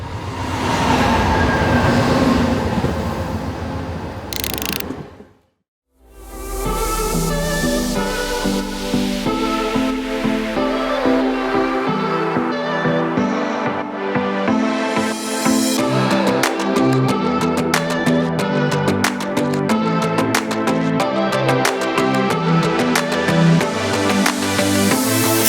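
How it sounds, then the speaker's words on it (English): A metro train arriving at a platform in Istanbul rumbles loudly, with a brief quiet gap before a sustained roar and rattling clatter of the cars running along the track. "So just wait for one of the trains to come."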